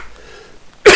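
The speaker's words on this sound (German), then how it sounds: "Einmal kurz husten." A single short, sharp cough from a man playing Fallout: New Vegas, bursting out loud and close at the very end after near silence.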